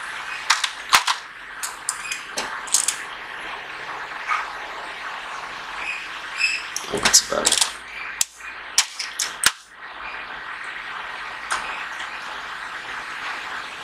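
A Canon inkjet printer with a cartridge error opened up, its mechanism giving off sharp clicks and snapping ticks in irregular bursts over a steady whirring hum, close and fairly loud, with no voices.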